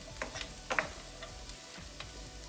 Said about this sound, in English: Stir this in good, get a lot of the bacon drippings all over the Brussels sprouts.